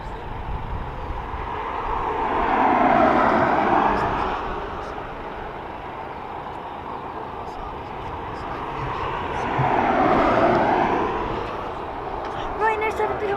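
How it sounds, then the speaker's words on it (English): An inbound airliner at Dublin Airport roars past in two broad swells of jet engine noise, rising and fading, heard from a distance with steady background rumble. "So there is another inbound aircraft in now"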